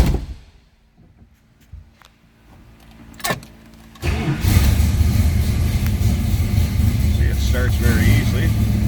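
1973 Plymouth Duster with a 340 engine: a few quiet clicks and a brief whir, then after about four seconds the engine fires and settles into a loud, steady running roar.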